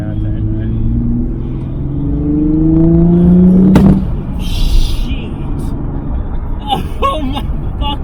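A very loud car roars past nearby, its engine note climbing for a few seconds before a sharp peak as it passes and then fades. Excited voices follow.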